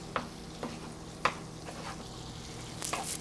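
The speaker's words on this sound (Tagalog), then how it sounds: "Sweat na natin yung ating onions." Onions sautéing in melted butter and oil in a pan for seafood fried rice, a steady soft sizzle with a few sharp clicks of a utensil stirring against the pan, no talk.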